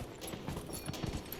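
Horse hooves clop along in Dragon Age Inquisition, a quick, steady patter of soft hoofbeats under a dense wash of game ambience.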